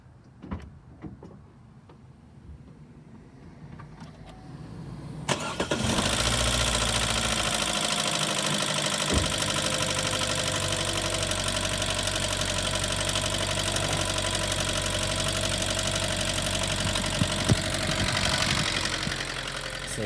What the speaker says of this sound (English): So I'm about to crank it up so y'all can hear it